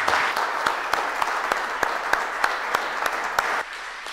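An audience at a robotics and AI tech salon event in Hannover gives the guests on stage a steady round of applause, with dense clapping and distinct sharp claps that fade abruptly near the end.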